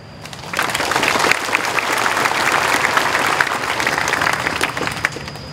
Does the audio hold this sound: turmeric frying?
no